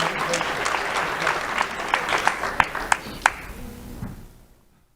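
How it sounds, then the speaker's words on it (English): Applause from an audience at a school awards ceremony for three students, a steady patter of clapping with a few sharp, close claps standing out before it tapers off and stops. "Let's have a round of applause for Millie Angie Ferreira and Grayson Admire"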